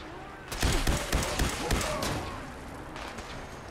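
Minigun fire in the Fallout video game: a dense burst of rapid, loud gunfire starting about half a second in and rattling on for most of the clip, fading into a lower rumble near the end.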